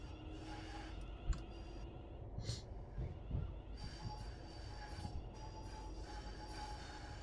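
A train runs on the West Coast Main Line in Train Sim World 5, climbing a gradient with a steady low rumble of rolling wheels, occasional clicks and a faint squeal, heard alone at moderate volume.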